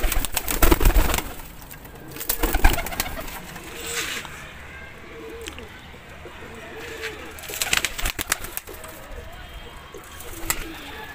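Young flying pigeons coo in short, soft, repeated phrases, with rustling and scattered thumps around them and faint voices now and then.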